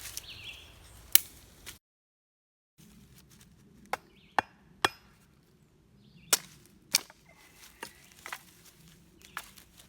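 Wood split outdoors for a fire in damp conditions: several sharp, close chopping cracks spaced irregularly, with quieter crackling and rustling between them and a brief total dropout near the start.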